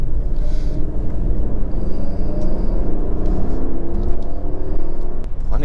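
A Mercedes-Maybach GLS600 SUV is driven in sport mode through a handling test, with a loud, steady interior rumble of engine and road noise throughout and no talking.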